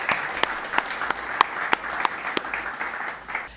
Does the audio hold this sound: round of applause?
yes